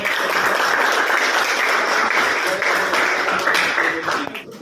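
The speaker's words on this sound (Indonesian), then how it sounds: "Tepuk tangan buat" A class of students applauds in a school lesson, a steady, loud wash of many hands clapping at once that holds evenly and fades slightly at the close.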